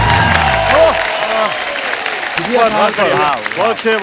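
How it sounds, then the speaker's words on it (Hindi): A comedy show studio audience applauds in a steady wash of clapping while a voice talks over it throughout. "एक बार जोरदार तालियां हो जाएं"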